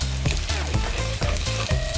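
Garlic toasting in a pan while cooking vegan bagna cauda pasta: a steady close sizzle and frying crackle with a few soft stirring clatters, and no talking.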